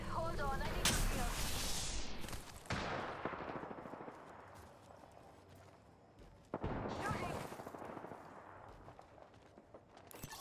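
Gunfire in Apex Legends during a ranked match, dense, loud sustained shooting with sharp bursts, a brief cut-off and a fresh volley, under a busy game soundscape.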